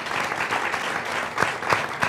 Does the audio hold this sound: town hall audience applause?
yes